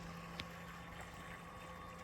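Autopilot-guided boat slowly moving off on open water, a faint low steady hum with a thin tonal whine, distant and quiet, with one brief tap near the start.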